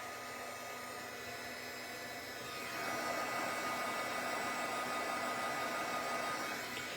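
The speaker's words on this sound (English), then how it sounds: "I'm moving the heat tool out of the way so I don't blow my flowers all over the place." A heat tool blows hot air at close range, a steady whooshing roar that steps up sharply in loudness partway through and then holds constant, with no talking.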